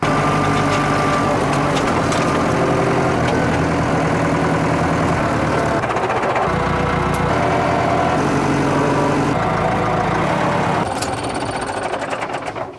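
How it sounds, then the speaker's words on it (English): A Massey Ferguson 165 4x4 tractor's diesel engine runs steadily and close, with a loud, constant throbbing chug and clattering knock. The engine keeps up one even drone the whole time. "I'll drive the Massey out to the quarry."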